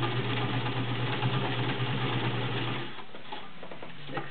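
A vintage White model 1665 heavy-duty sewing machine stitches through six layers of denim with a steady, close motor hum and rapid needle chatter, then slows to a quieter idle near the end.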